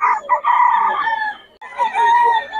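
A Pumpkin Hatch gamefowl rooster crows loudly and close by, giving two strong, drawn-out crows with a brief pause between them.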